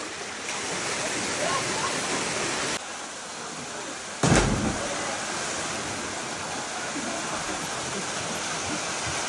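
Iran's tallest waterfall roars as a steady, dense wash of falling water, loud and close, with a brief heavier splash partway through.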